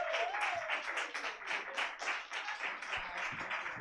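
An audience at a live comedy show claps and cheers for a comedian, a dense burst of applause rising and falling in waves, loud and close.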